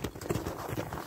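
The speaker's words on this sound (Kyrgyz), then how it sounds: "бул аттар жаны чыга жүгүрөт" Horses running hard, a rapid drumming of hoofbeats repeating in a steady galloping rhythm, close and fairly loud across the whole short stretch.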